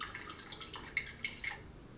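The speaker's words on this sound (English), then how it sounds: "and I'm pouring it very slowly" Strongly alkaline or acidic sanitizing water poured very slowly, heard as a light, uneven run of drips and small splashes that trickle on and off for about a second and a half.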